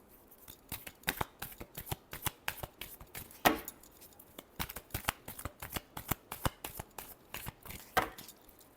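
Tarot cards are shuffled by hand in a quick, steady series of crisp riffling flutters and taps, close and clear with no voices over them.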